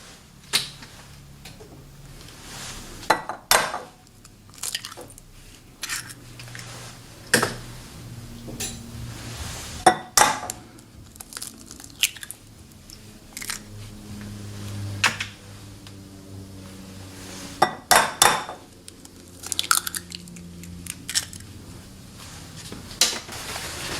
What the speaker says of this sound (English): we're going to crack our 4 eggs into a bowl